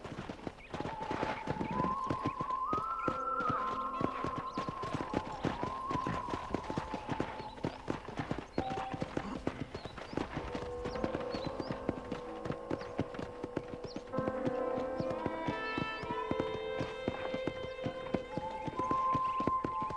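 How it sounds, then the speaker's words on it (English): Rhythmic hoofbeats of a galloping horse in Red Dead Redemption, steady and close, with a musical score playing over the top and no talking. "let's see if you can still ride a horse"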